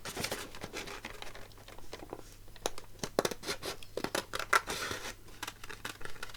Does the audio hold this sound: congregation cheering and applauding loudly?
no